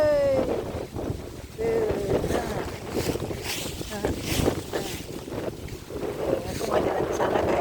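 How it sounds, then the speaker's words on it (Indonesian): Strong, cold wind gusts outdoors in Tilburg on a sunny day, roaring and buffeting the microphone continuously, with a voice speaking over it. "Nah, tuh, anginnya kencang banget guys."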